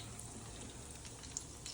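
Chicken strips frying in a medium pan of hot oil give a steady, close sizzle with faint crackles throughout, no talking over it.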